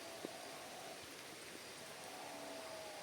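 Heavy rain in a countryside forest in rural Hokkaido, Japan: a steady, dense hiss of rainfall throughout with no distinct drops, even and unbroken.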